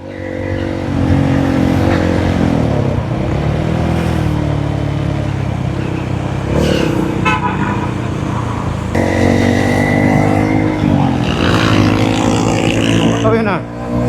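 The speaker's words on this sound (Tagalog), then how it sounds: "Traffic pala dito." Heavy road traffic in Tanauan with cars and motorcycles passing close by, engines droning and revving in overlapping waves, a louder vehicle surging past midway and again near the end.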